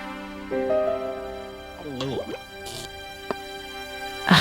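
Brandy pours from a bottle in the video game Broken Sword, heard as a short gurgling, dripping trickle midway through, with a soft tap and a brief clink afterward over a sustained musical background.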